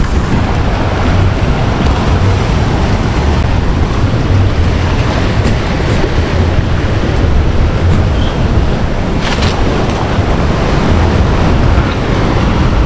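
Sea waves surging into a river mouth in El Salvador, a loud continuous roaring wash of surf with wind, no voices.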